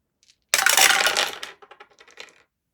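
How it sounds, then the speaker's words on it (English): Six dice tossed together in a tabletop game about the siege of Acre: a bright, sudden clatter lasting about a second, followed by several lighter rattles and ticks as they come to rest, close with no talking. "So we're going to have roll 6 dice,"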